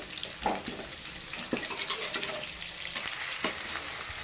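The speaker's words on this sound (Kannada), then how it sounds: "ಚೆನ್ನಾಗಿ ಈರುಳ್ಳಿ ಜೊತೆನೆ ಫ್ರೈ ಮಾಡ್ಕೋಬೇಕು" Chopped onions and capsicum fry in a pan for kharabath. The sizzle is soft and watery, and a few light scrapes of stirring come through at intervals, with no one speaking.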